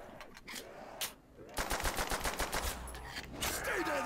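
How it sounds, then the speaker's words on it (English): Automatic weapon fire rattles in rapid bursts during Call of Duty: World at War custom zombies on an Iwo Jima map, with dense echoing volleys that grow into sustained continuous shooting. "I'll shoot you with this."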